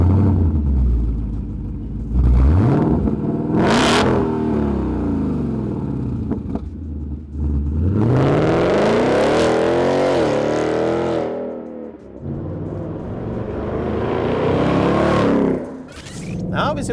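A 2018–2023 Mustang GT with a Roush axle-back exhaust, without active exhaust, rumbles loudly close by, with several rising and falling revs and a sharp blip, and someone talks over parts of it.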